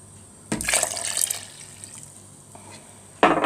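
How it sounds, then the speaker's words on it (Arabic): Warm milk, two cups of it, poured into whisked chocolate cake batter, giving a soft liquid splash and trickle that starts abruptly, fades to a quiet stream, then surges again near the end, close by with no talk. "بعد ما احنا ضربناه وصل للون ده تنزلي بقى باللبن"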